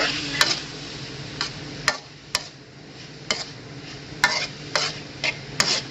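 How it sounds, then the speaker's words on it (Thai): Naem, Thai fermented pork, stir-frying in a pan with a soft steady sizzle, broken by sharp spatula scrapes and clicks against the metal every second or so. "ผัดเข้าไป ผัดแนมในกระทะไป"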